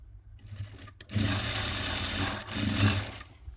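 A sewing machine runs a straight line of stitches along the seam of a fabric bag, a steady close whirring and rattling drone that pauses briefly and then resumes, with no talking.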